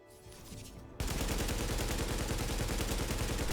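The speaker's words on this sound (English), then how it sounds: "This variation is the classic AK-47, the same AK variant of the sadly disappointing weapon" Classic AK-47 assault rifle from The Division firing a loud, sustained automatic burst of rapid, tightly spaced shots, which begins abruptly after a brief quieter lead-in and runs without pause to the end.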